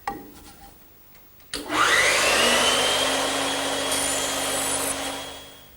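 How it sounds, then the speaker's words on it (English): A band saw cuts away wooden tenon material for an English garden bench, starting with a sudden loud onset and then whining steadily and close for several seconds before easing slightly at the end. "I could use a hand saw to remove the material, but the band saw is just quicker."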